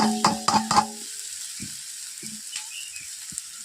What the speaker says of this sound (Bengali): দিয়ে দিচ্ছি চাউমিন প্রথমে